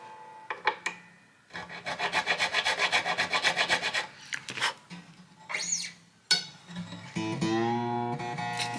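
Rasping and filing strokes on a wooden guitar nut being trimmed to fit the neck of a 1940 Martin D-18, a steady run of close scraping strokes with short pauses and a few sharper squeaks.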